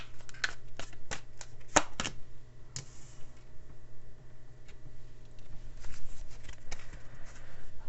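Tarot cards are shuffled close by, a run of crisp riffling flicks and taps that settles into quieter handling, with no talking.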